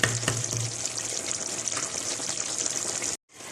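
Chicken frying in oil in a clay pot karahi, village style: a continuous close crackling sizzle with a brief low hum at the start, then it cuts off abruptly near the end.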